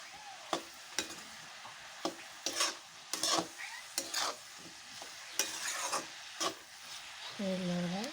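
Fish curry stirred in a pan, with repeated scraping strokes and a soft sizzle throughout, ending in a brief tonal clink or squeak; close and moderately loud, no talking.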